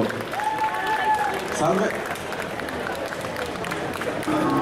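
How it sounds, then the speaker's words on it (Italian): Audience applause at a Cartoomics 2017 cosplay show, a steady sustained clapping from a crowd that fills the whole stretch, with a presenter speaking briefly over it. "dovreste applaudire, di solito quando uno dice il titolo"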